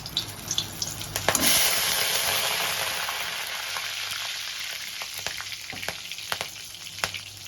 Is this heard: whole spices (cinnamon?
yes